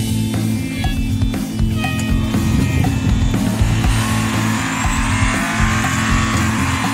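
Porsche 911 GT1-98 race car in the Real Racing 3 video game, a loud, steady high-revving engine roar with gear shifts and tire squeal running throughout, no talk.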